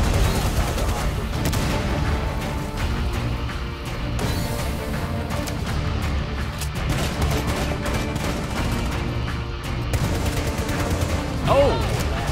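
Sustained automatic gunfire in Rainbow Six Siege, dense overlapping bursts and crashes filling the whole stretch, with a player's voice talking over the shooting.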